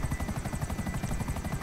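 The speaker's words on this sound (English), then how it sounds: "You're gonna ruin the helicopter before you even start the mission." Helicopter rotor from the video game GTA 5, a loud, continuous rhythmic chop of fast, evenly spaced blade beats over a low engine drone, close and steady throughout with no talking.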